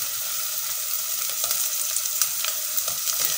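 Small shrimp hit a hot frying pan for a seafood rice dish and sizzle steadily, a close, continuous crackling with no talking.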